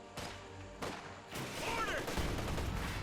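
Battlefield gunfire in Company of Heroes 2 as paratroopers with MG-34 machine guns lay down suppressive fire: dense, continuous bursts and crackling shots with sharp onsets, steady and loud throughout.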